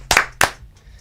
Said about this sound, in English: 2 claps